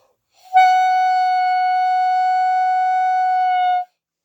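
One sustained reedy clarinet note held steadily for about three seconds, clear and close, then stopping cleanly.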